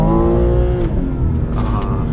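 A BMW M240i engine holds its revs at a steady, loud drone that sags a little, heard close from inside the car.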